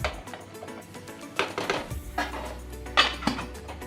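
A lid goes onto a cooking pan of stuffed papad curry after garam masala and ghee are added, several light metallic clinks and knocks against a low background hum.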